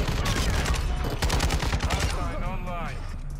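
RPK machine gun in Modern Warfare 2 firing rapid automatic bursts, dense, loud and close, with someone talking over the shots.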